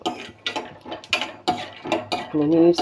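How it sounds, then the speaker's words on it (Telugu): Raw peanuts tumble into hot oil in a pan for beerakaya pachadi, a series of close rattling clatters in quick bursts with a brief sizzle building near the end. "నూనె కాగిందండి, పల్లీలు వేస్తున్నాను"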